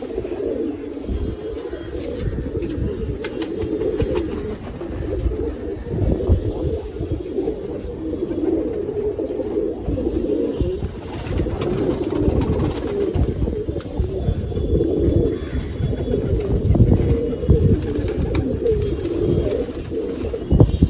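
Pigeons of mixed ages, adults and young birds together, coo continuously inside a pigeon loft, a dense, steady murmur of overlapping calls from many birds close by.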